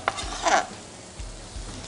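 Chopped chicken stir-fried with papaya in a pan, giving a soft sizzle with a few scraping stirs and light clinks of the utensil against the pan, close and fairly quiet.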